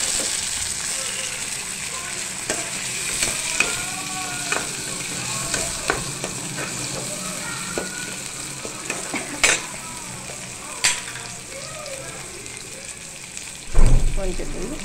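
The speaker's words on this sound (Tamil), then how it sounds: "வெங்காயம் நல்லா வதங்கட்டும், அதுக்கப்புறமா நம்ம தக்காளி சேர்த்துக்கலாம்." Onions frying in a pan with mint, curry leaves and coriander, sizzling steadily up close while a spoon stirs and taps the pan every second or two, ending with a louder clatter.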